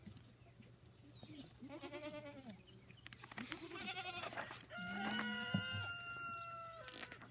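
Several goats bleat close by in a farm setting, wavering cries in separate bursts with a steady low hum underneath and faint bird calls mixed in.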